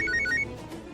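A mobile phone rings during an office meeting, with a quick repeated electronic ringtone trilling for about half a second before cutting off into quiet room tone.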